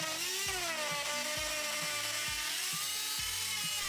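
A power tool bevel-cutting a sheet of plasterboard at 45 degrees, a loud steady whine with regular rhythmic dips about every half second, heard alone without talk.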